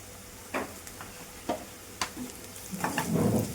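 Turmeric and salt are stirred into something frying in a pan. A few sharp spatula taps come about half a second apart, then a denser sizzle swells toward the end, with no talk.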